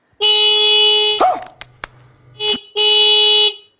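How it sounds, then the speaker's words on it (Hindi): A motorbike horn wired to a 12-volt lithium-ion battery and fitted to a bicycle blares in two loud, steady electronic honks, close and harsh, separated by a short pause with faint clicks. "जो है कनेक्ट कर दिए हैं हॉर्न का साथ में, आप चलिए इसे बजाते हैं।"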